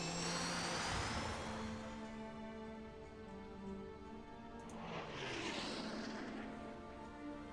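Jet fighter aircraft in Hearts of Iron IV roar past with a sustained engine whine and a swelling, sweeping pass midway, fairly loud and continuous with no voices.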